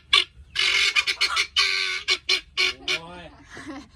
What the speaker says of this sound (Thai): โอ้โหเสียงไก่ต๊อก เนี่ยค่ะ ไก่ต๊อกน่ารักมาก